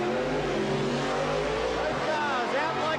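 Drag racing cars launching hard off the start line at the 1991 ANDRA Drag Racing Nationals, a loud sustained engine roar over a crowd and commentary, with tones rising as the cars accelerate away.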